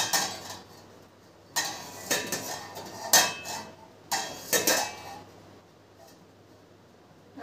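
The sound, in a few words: lid being put on a pot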